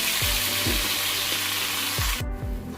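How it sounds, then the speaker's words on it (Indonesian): Ground spice paste sautéing in hot oil for chicken noodles, a dense steady sizzle with several low thumps and scrapes of a spatula in the pan, close and loud. "Lalu tumis bumbunya sampai harum dan matang ya guys."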